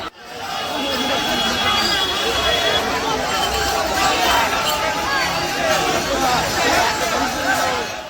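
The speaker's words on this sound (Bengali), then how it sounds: "আর আমরা এখন ক্রস করছি সেই শেওড়াফুলি রেলগেট যেখানে প্রচণ্ড ভিড় হয়" A huge crowd of pilgrims at the Sheoraphuli rail gate on the Tarakeswar Yatra, on the second Monday of Shravan, fills the air with steady, loud chatter and babble that swells evenly throughout.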